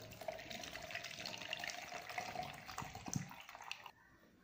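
Water poured into an empty beaker, about 200 ml of demineralized or RO water, making a steady close splashing pour that runs about four seconds and then stops abruptly.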